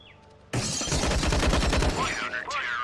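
A rapid burst of gunfire in the video game Counter-Strike: Global Offensive erupts suddenly and rattles loudly for about a second and a half, then fades into scattered game noise.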